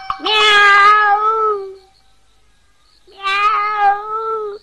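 A cartoon cat gives two drawn-out, clearly pitched meows, each lasting over a second, separated by a short pause, loud and close with no other sound around them.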